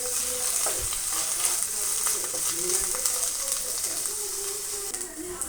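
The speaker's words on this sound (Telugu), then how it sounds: "ఇప్పుడు కొంచెం జింజర్ గార్లిక్ పేస్ట్ యాడ్ చేసుకొని పచ్చి స్మెల్ పోయేంత వరకు బాగా ఫ్రై చేసుకోవాలి" Ginger garlic paste frying in a pan for egg bhurji, a steady, dense sizzle that holds level throughout with faint scraping stirs and small pops near at hand.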